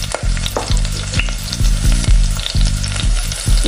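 Breadcrumb-coated vegetable chicken seekh kabab rolls fry loudly in hot oil, a dense, close, unbroken crackle and bubble with background music playing.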